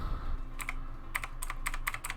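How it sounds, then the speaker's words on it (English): A computer keyboard is typed on in a short burst of sharp, quiet clicks and keystrokes, close by with no talk. "The keyboard is awesome."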